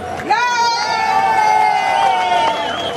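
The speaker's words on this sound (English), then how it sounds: "Give a round of applause for Khalil." A crowd at an outdoor May Day rally for International Workers' Day in Union Square cheers and whoops loudly in a sustained roar, with voices shouting above the noise.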